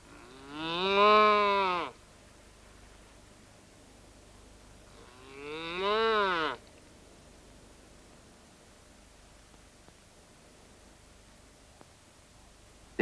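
A cow lowing outside at night in a cartoon, two long, loud moos separated by a few seconds of quiet hiss.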